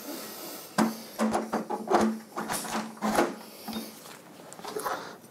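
Metal clinks and knocks from an Axcaliber offset tenoning cutter being fitted into a router, a string of close, sharp taps and scrapes with short pauses between them.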